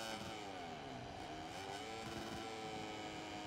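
Engines of Moto3 racing motorcycles in the video game MotoGP 21 whine steadily, with faint pitch sweeps as the bikes rev through gears, quiet and continuous under a low hum.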